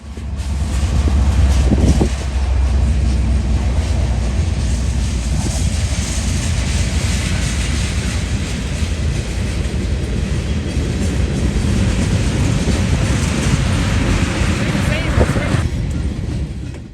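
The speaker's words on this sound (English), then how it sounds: "M368 eastbound rolls into the yard." An eastbound freight train led by a 1976 Conrail heritage locomotive rolling into a yard in northern Ohio, a loud steady rumble of engine and rolling cars close by throughout.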